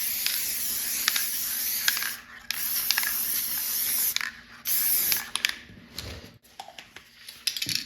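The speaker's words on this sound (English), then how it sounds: "I've got some Elmer spray adhesive here. I'm going to spray the surface of the sanding." Short hissing bursts of an Elmer's spray adhesive can sprayed onto sandpaper, several separate sprays with brief pauses between them, close up.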